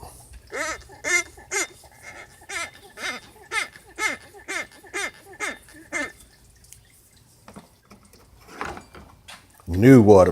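An old car water pump running under the hood gives a repeated squeaking chirp in an even rhythm of about two per second, loud and close, for six seconds, then stops into quiet with a few soft knocks and a louder burst at the end.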